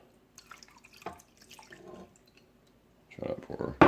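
Chicken broth poured from a container into a pressure cooker in a home kitchen, a short liquid splashing and dripping burst near the end, following quiet kitchen handling noises.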